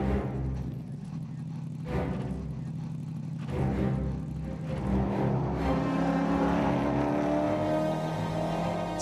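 A Mercedes SLS GT3 race car roars around Eastern Creek Raceway during an Australian GT Championship race, its engine droning and rising in pitch under continuous commentary.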